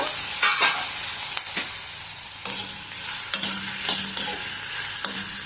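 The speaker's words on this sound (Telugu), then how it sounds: "చూద్దాము ఇప్పుడు కొంచెము మగ్గింటుంది ఉల్లిగడ్డ." Onions cooking in a pan for a pumpkin curry, with a steady close sizzle of frying and several distinct scraping stirs of a spoon against the pan at irregular intervals.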